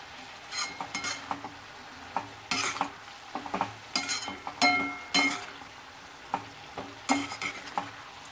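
A spoon scrapes and clinks against a pan as a Surti papdi and eggplant curry with spice masala is stirred. The bursts of stirring come at irregular intervals over a faint, steady sizzle, and no voices are heard.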